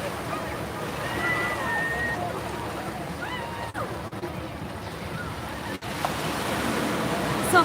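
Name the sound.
ocean waves on beach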